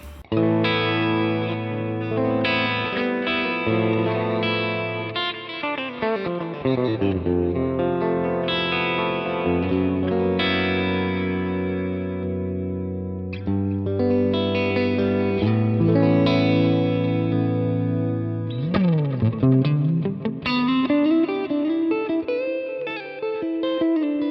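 An electric guitar, a Telecaster, rings out through distortion and chorus effects, playing chords and melodic lines with heavy sustain and reverb, no voices.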